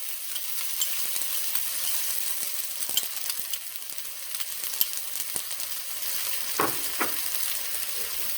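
Onion and garlic frying in heated oil for a rice and peas dish, a steady broadband sizzle running throughout with occasional stirring clicks and a couple of brief louder hisses near the end, no voices.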